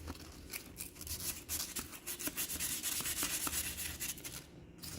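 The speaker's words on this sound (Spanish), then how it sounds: "Ahora voy a utilizar papel de lija." Close, continuous abrasive scraping of sandpaper on copper, removing oxide, rhythmic strokes with no voices.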